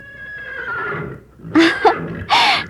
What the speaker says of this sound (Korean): 옆에 있던 당나귀가 놀라 힝 하고 소리를 질렀습니다